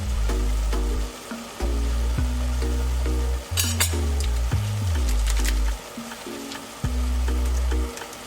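Shrimp frying in a pan with Indomie noodles and vegetables, giving a steady close sizzle and occasional stirring clatter over a droning hum that cuts in and out.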